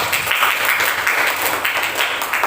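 Group applause for the fourth student team after its class presentation, a steady wash of many hands clapping at moderate level for the whole stretch, with no voices standing out.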